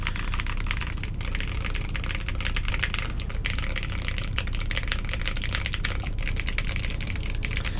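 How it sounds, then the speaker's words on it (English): Rapid clacky keystrokes on a custom mechanical keyboard fitted with JR1 switches, a dense close-up patter of individual key presses running continuously without talk. "Let me just click somewhere I can type, just so you guys can get a feel for what the JR1 sounds like."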